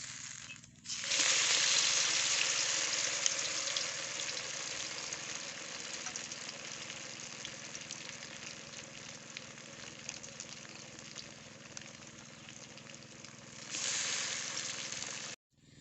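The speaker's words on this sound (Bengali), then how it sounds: "বাকিগুলো একইভাবে ভেজে নেবো" Snack pieces frying in hot oil, giving a steady, even sizzle and crackle that holds for about fifteen seconds, with a short swell near the end and no voices.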